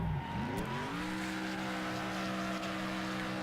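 A car reverses in the Next Car Game racing video game, its engine note climbing quickly and then holding a steady, buzzy drone, loud and continuous.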